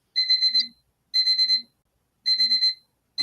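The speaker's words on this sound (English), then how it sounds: "I have no idea what that alarm was for" Electronic alarm beeping as a medicine reminder: three bursts of rapid high-pitched beeps in a regular pattern with short silences between, loud and close, a fourth burst starting at the end, no talk.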